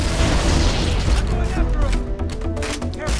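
Loud, dense combat in Halo: Combat Evolved: a rumbling grenade blast with crackling gunfire bursts and secondary explosion pops, continuous throughout, with a voice talking briefly over it.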